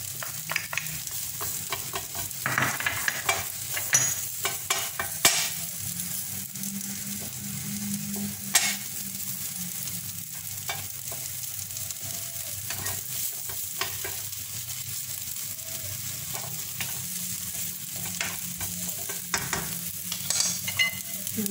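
Onion sizzles steadily in a hot pan for a baked potato gratin, with a spatula scraping and stirring at irregular intervals over the continuous close frying hiss.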